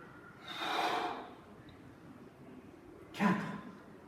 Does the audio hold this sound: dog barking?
no